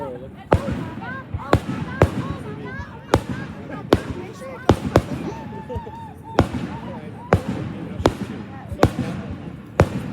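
Fireworks finale with a rapid run of sharp bangs and crackles, about a dozen loud bursts in ten seconds, while people talk and exclaim excitedly throughout.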